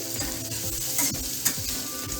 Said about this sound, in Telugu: గ్యాస్ సిమ్లోనే పెట్టుకొని ఫ్రై చేసుకోవాలండి